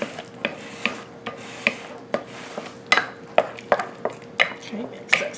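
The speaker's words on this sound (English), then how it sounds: "mix that cinnamon up really good" A spoon works cinnamon into banana bread batter in a bowl, giving a regular series of scraping, knocking strokes roughly every half second over a quiet background, close and fairly crisp, with no talking.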